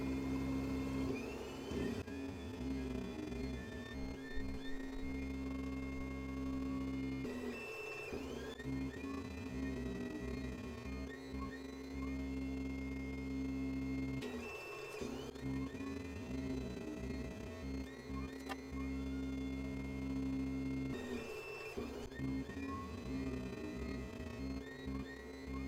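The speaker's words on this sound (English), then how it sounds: "The Rotary platform was then attached to the stepper motor, the G-code loaded in UGS and sent to the machine." A FoxAlien HW40 hot wire foam cutting CNC machine runs a stepper motor on a rotary platform while cutting polystyrene, giving a steady mechanical whir and hum with periodic shifts in pitch as the motor moves.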